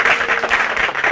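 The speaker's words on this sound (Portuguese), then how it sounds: "Palmas para o Android." Brief burst of applause from a small group, dense clapping at a steady level filling the whole moment.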